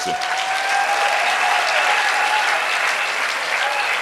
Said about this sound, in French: Est-ce que nous pouvons applaudir pour les hommes ici?